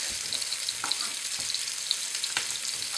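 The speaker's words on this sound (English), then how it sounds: "just a bit of oil in the pan to help it brown, and tofu steak goes in" Tofu steak frying in a little oil in a pan, giving a steady, close sizzle with scattered small crackles and pops throughout.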